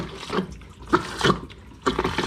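Water rushes in short bursts as a Thetford cassette toilet in a caravan is flushed, three separate surges of swirling water spaced about a second apart, close by and moderately loud.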